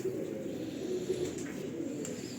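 Pigeons in a fancier's loft give a soft, low continuous cooing, steady and fairly close, with no talk over it.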